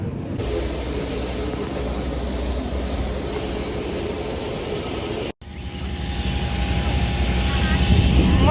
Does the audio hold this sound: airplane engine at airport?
yes